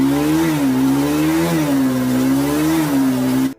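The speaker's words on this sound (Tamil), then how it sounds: "இந்த சவுண்ட் வந்து பார்த்தீங்க அப்படின்னா ஒரு கண்டிப்பாக RS 200ஓட சவுண்டை தான் இருக்குது" Bajaj Pulsar RS200 motorcycle engine running steadily up close, a loud buzzing idle with a few small throttle blips rising and falling, heard alone.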